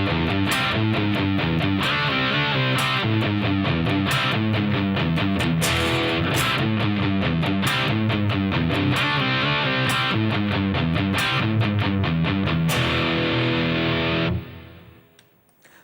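A distorted electric guitar plays the main riff of a song from a 1994 release, chugging rhythmic chords with sharp accented hits, loud and alone, ringing out and fading at the end.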